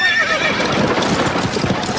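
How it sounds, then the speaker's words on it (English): Runaway horses whinny loudly and gallop in a steady, dense rush of hooves, close and continuous throughout. "The horses were running away very fast."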